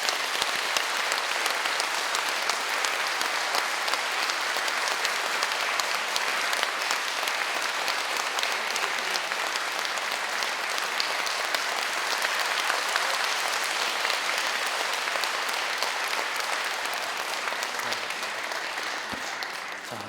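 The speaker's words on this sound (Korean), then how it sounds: "큰 박수로 환영해 주십시오" A parish congregation at a Catholic church gives a long, steady round of applause welcoming a priest, a dense wash of many hands that holds for a long stretch before tapering off near the end.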